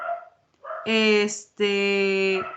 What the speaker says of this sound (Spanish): Ya creo que ya bajó, porque estaban ladrando bien feo.